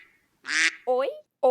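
A cartoonish duck quack sound effect, a short raspy honk followed by a couple of nasal, voice-like squawks, loud and close, played in a children's educational TV segment about dinosaurs.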